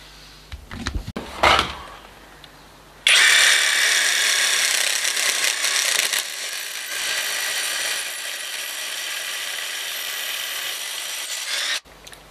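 A cheap VTEK impact wrench runs on a wheel bolt: a few knocks and scrapes, then a loud, sustained buzzing hammer that rattles on for about nine seconds before cutting off abruptly.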